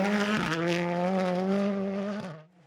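A Citroen DS3 R5 rally car revs hard on a forest stage, one strong engine note holding high before dropping and fading as it goes by.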